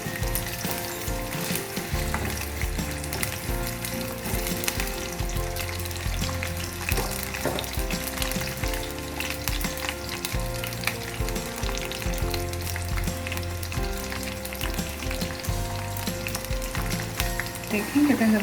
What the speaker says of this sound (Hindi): देखें कितने ज़बरदस्त से फ्राई हो रहे हैं।